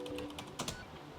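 Several quick keystrokes on a Lenovo Legion laptop keyboard, close and crisp, with a louder cluster of clicks midway and no voices.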